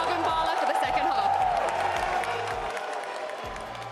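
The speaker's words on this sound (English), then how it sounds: "Make some more noise for Crew, everyone." Crowd at an esports arena during a Champions tournament match cheers and claps, a sustained roar of applause and whoops with an announcer talking over it.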